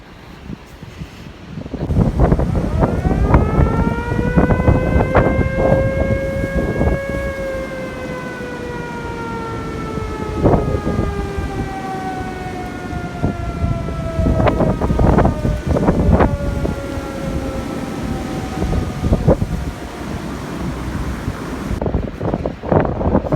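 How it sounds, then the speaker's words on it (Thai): Very loud storm wind roars steadily around a house during a storm, with a long rising and falling siren-like howl across the middle and gusty surges throughout. "เสียงลมแบบเสียงดังมาก"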